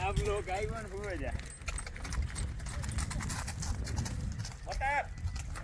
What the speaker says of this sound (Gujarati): ખરેખર ઘોડું કહેવાય